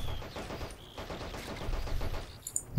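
Rapid machine gun bursts in the WWII strategy game Men of War: Assault Squad rattle in quick repeated strings of shots at moderate volume, with scattered distant battle noise and no talk.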